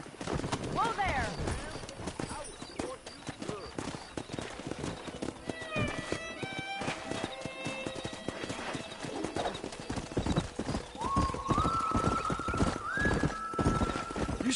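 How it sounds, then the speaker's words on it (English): Wild horses in Red Dead Redemption gallop with dense, rapid hoof clip-clops and let out several loud neighs and whinnies, with a long whinny near the end. "That ranch hand said there's a pack of wild horses nearby."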